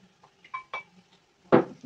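Canned sardine goes into a pan of sautéed tomato: a few light metallic clinks of a utensil against cookware, then a louder, fuller plop and sizzle near the end.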